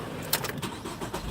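A truck engine cranks and catches, a short burst of starting noise followed by a steady running rumble, close and fairly loud, with no talking.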